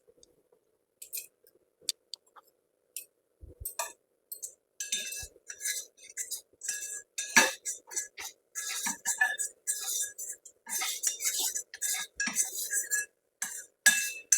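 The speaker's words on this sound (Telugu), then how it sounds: "ఇప్పుడు దీంట్లో కలిపి ఉంచుకున్న ఈ కస్టర్డ్ని ఇందులో వేసుకుని కలుపుకుందాము" Custard stirred into boiling milk gives off a string of light metallic clinks and taps of a spoon against the pot, sparse at first and then quick and steady, with little else around.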